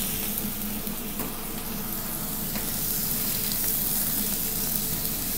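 Chicken pieces frying with garlic in a wok for braised chicken with dried tofu skin, wine just poured in, hissing in a steady close sizzle that holds evenly throughout with faint stirring scrapes.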